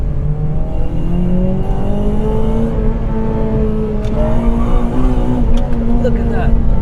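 A Honda Civic Type R FD2 engine revving while driving, a loud, close in-cabin drone whose pitch climbs steadily under acceleration, with faint clicks over it.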